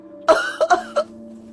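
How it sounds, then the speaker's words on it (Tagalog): A person coughs hard four times in a quick, uneven burst, close and loud, each cough sharp and rough, followed by quiet. "Pilit na pinipigilan ang malakas na ubo, pero hindi niya na kaya."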